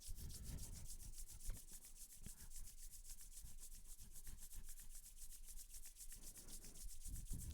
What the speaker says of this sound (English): And now start to rub your palms like we did at the beginning. Rub them vigorously.